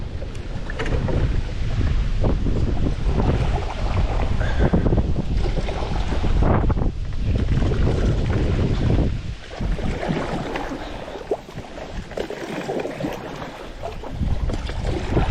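Strong wind gusting across open water around a small boat being paddled, heavy buffeting roar on the microphone with splashing and sloshing, loud and continuous with brief lulls.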